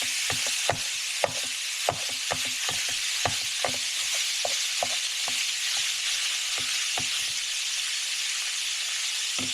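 Ground beef browning in a skillet, a steady bright sizzle with regular scraping and stirring clicks throughout, close and moderately loud, no talk.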